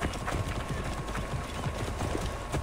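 Horse hooves clip-clopping in the video game Assassin's Creed Origins, a steady trotting rhythm of close hoof beats repeating over game background sound.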